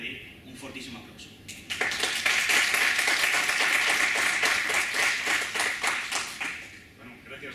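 An audience at a talk on the UMMO myth applauding the speaker: the clapping starts from a few hands, swells quickly into loud, dense applause, then thins out toward the end, with some talk underneath.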